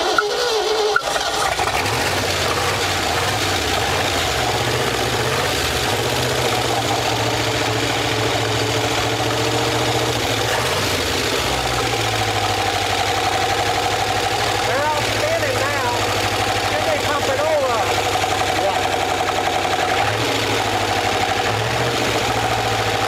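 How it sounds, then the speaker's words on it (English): An old truck abandoned in woods for over 50 years idles roughly and steadily throughout, loud and close, with a deep rumbling drone; its exhaust lies on the ground. "Let's see if it'll crank right back up."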